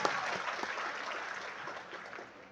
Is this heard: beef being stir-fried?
no